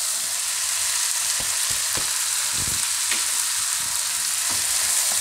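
Fresh fenugreek leaves frying in a pan of hot oil for a banana and fenugreek curry, giving a steady close sizzle with scattered sharp clicks and scrapes of stirring, no voices.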